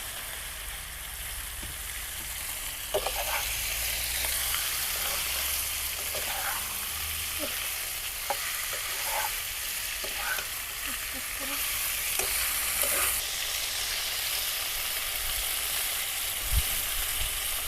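Chicken and bay leaves fry in a pot for village-style chicken biryani. A steady, dense sizzle runs throughout, with occasional stirring scrapes and clinks close by.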